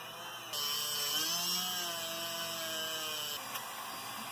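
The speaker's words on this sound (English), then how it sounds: "I'm going to take a polishing disc to it and make a nice pass to clean up all the small imperfections" A power tool with a polishing disc works over metal on a Cub Cadet 1882 steering part, a high whine starting abruptly, its pitch shifting slightly as it grinds for about three seconds, then cutting off.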